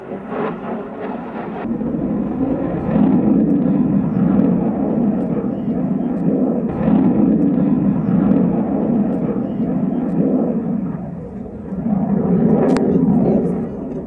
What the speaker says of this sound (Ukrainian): пілоти показують небесними викрутасами, хоча польоти лише тренувальні малюють у небі фігури вищого пілотажу